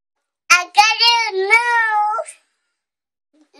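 A toddler imitates a cat with one long, drawn-out meow, close and clear, followed by silence.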